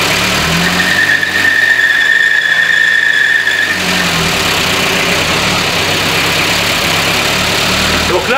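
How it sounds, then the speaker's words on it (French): A Renault 11 GTL, restarted after standing unused since 2011, idles roughly while its fan belt gives a high, steady squeal for a few seconds. The engine noise is close and loud, with some rumble and misfiring. "vous allez peut-être entendre couiner parce que la courroie couine et pourtant la courroie n'est pas détendue"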